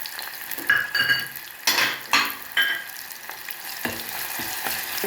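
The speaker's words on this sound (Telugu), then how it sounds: "నూనె కాగినాక వేసుకోవాలి. ఆనియన్స్ వేస్తున్నాండి." Onions dropped into hot oil hiss and crackle, with several sharp bursts of sizzling and a few clinks of a utensil against the pan, heard up close and without any voices.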